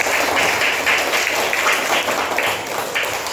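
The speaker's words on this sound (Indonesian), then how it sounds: "baiknya tepuk tangan Buat pembelajaran" A class of schoolchildren claps together after a lesson, a loud burst of many small hands applauding with a roughly rhythmic, slightly uneven beat that continues for the whole stretch.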